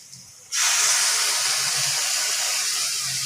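Garlic paste hits hot oil with already frying onions, setting off a sudden loud, steady hiss that holds evenly to the end.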